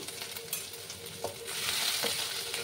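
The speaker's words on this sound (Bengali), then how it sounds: "আদাগুলোকে একটু ভেজে নিচ্ছি আমি" Ginger fries in hot oil seasoned with panch phoron and salt for a rohu fish curry, a continuous close sizzle with a few light stirring scrapes and clicks, growing slightly louder toward the end, no voices.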